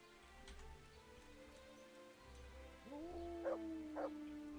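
Dog howling in a village in the game Kingdom Come Deliverance, rising tonal wails in the second half over soft rain-like ambience, with two brief louder peaks near the end.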